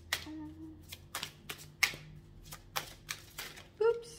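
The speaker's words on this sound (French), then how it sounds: "On va prendre une carte de l'oracle des mythologies." Cards from a mythology oracle deck are shuffled and drawn, producing a quick series of crisp close snaps and flicks at an uneven rhythm, with a voice speaking intermittently.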